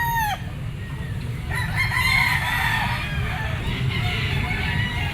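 A rooster crows loudly at a gamefowl pet market, its call rising over a busy background murmur of the market crowd and other birds.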